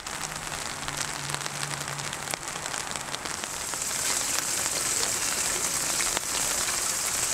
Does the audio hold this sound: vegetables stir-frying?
no